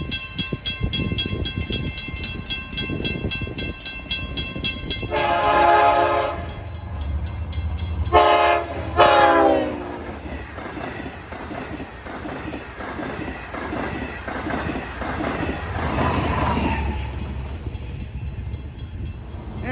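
A diesel commuter train rolls past New Hyde Park station at evening rush hour, its loud horn blaring in sustained blasts over a steady rumble of engine and wheels that swells and fades as it goes by, with no talk.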